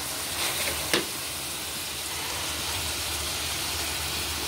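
Broth poured into hot oil in a pan for Filipino beef papaitan, giving a steady, even sizzle throughout, with a brief splash of liquid early on.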